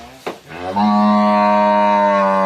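A Belgian Blue cow in a cattle barn lets out a single long, loud moo that holds steady for nearly two seconds after a brief rough onset.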